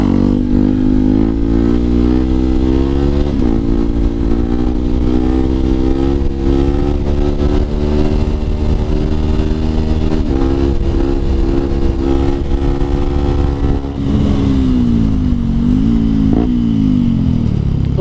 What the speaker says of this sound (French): ma moto c'est une Yamaha 125 WRX de 2011, entièrement d'origine